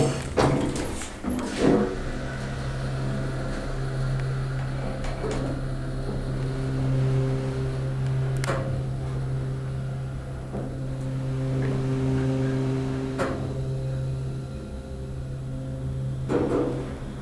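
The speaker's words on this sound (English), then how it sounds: "Wow, that's an epic motor." Motor of a vintage 1970s Dover hydraulic elevator in a historic granite building, running as a steady low drone with a few scattered clunks and clicks, close and fairly loud throughout.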